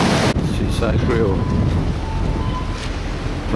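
Stormy rain and wind lash outside aboard a ship in the Arctic, a steady loud broadband roar with gusting and rumbling wave noise throughout.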